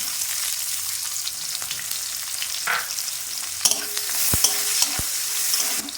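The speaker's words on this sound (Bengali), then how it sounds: "ফোড়নটা ভাজা ভাজা হয়ে এসেছে, এর মধ্যে কাঁচা পেঁয়াজ দিয়ে দিলাম, কাঁচা পেঁয়াজ।" Raw onion drops into hot oil with fried whole spices in a pan for a prawn and spinach curry, giving a soft sizzle that swells louder as the onion hits. A few sharp spoon knocks against the pan follow.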